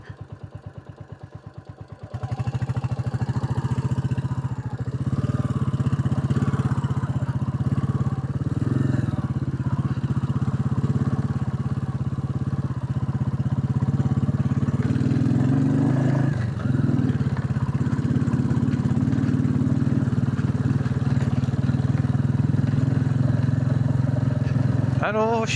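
A Royal Enfield Classic 350 motorcycle rides offroad on a muddy track. Its engine thumps steadily and close by the whole time, with some clatter mixed in, and a voice talks over the ride.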